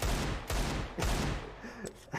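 Automatic rifle fire rattles in a Counter-Strike: Global Offensive match, several loud rapid bursts in quick succession followed by fainter scattered shots.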